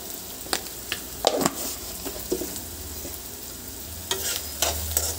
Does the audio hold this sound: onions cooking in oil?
yes